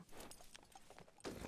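Horse hooves clip-clop steadily in a western roleplay video game set on a ranch, with a brief snorting whinny-like burst near the end, all close and fairly loud.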